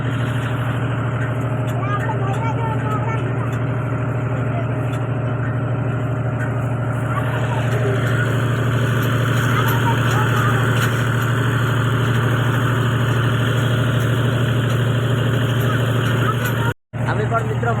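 A tractor engine runs at a steady, droning idle throughout, loud and close, while three people ride aboard and voices talk over the constant rumble.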